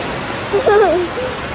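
Rain falls outside as a steady, even hiss, with a voice briefly calling out over it partway through.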